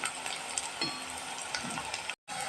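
Onions frying golden brown in a pan, a soft continuous sizzle and crackle close by, with a few light clicks before it cuts out briefly and resumes.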